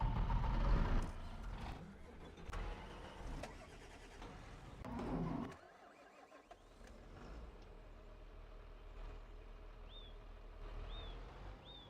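A tractor engine runs steadily in a farming video game, loud and close at first, then dropping to a lower idle hum with a brief quiet dip midway and faint chirps later.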